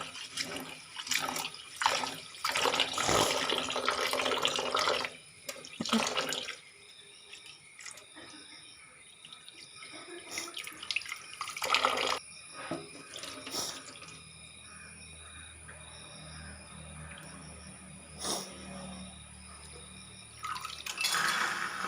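Rice is rinsed under a running kitchen tap. Bursts of gushing water and splashing come and go, with quieter spells of trickling and dripping between them, close and with no talk.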